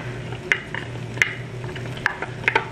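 Sliced onion, carrots and cabbage sauté at high heat in a pan for Indo-Chinese shrimp fried rice, a steady sizzle broken by a few sharp scrapes and taps of a stirring utensil.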